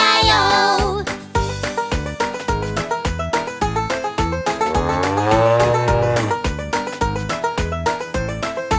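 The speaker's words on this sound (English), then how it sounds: "And on his farm he has a cow." A cow moos loudly over a bouncy, steady musical backing, with a long drawn-out low moo in the middle.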